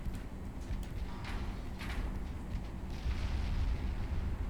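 Explosions aboard a warship in the naval combat game Ultimate Admiral Dreadnoughts as a flash fire erupts after torpedo and gun hits, a steady low rumbling roar with a few heavier booms rising over several seconds.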